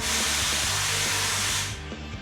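A loud, sustained rush of compressed air blasting out as a compressed air dryer purges in a paint workshop, with a low rhythmic mechanical hum underneath, cutting off abruptly near the end.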